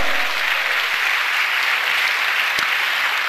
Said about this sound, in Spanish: Dale un aplauso a Cristo, hermano.